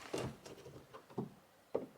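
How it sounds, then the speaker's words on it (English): Rubber seals popping out of holes in the body of a VW Crafter van during a camper conversion, heard as three sharp, separate pops spread over two seconds against quiet background noise. "That's the sound of the seal, rubber seals popping out of the holes."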